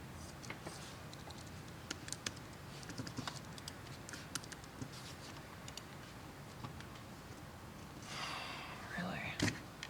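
Fairly steady typing on a computer keyboard, a run of quick irregular key clicks close by over low background noise, with a brief rustle or breathy sound near the end.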